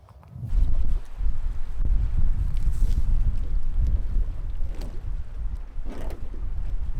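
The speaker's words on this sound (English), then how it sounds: "As you can see, it's a wee bit windy. Headwind, of course." Steady, loud headwind buffeting a microphone outdoors on a lake, a continuous low roar that swells and gusts throughout with no voices.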